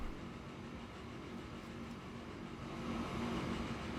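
A train in Transport Fever 2 runs steadily with a continuous rumbling, droning roll at moderate distance, the noise building slightly toward the end.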